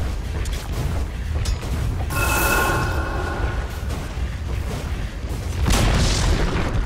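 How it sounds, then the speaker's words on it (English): In Dota 2, the Dire middle tower takes hits during an attack, with repeated deep booming impacts, a mechanical clanking rumble and a metallic ringing burst, loud and continuous with no voices. "Dire's middle tower is under attack."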